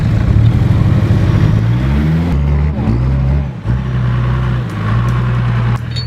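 A vehicle engine revs on Fraser Island as it pulls a stuck car out, with a loud close rumble climbing in pitch, dropping, then holding a steady strained drone.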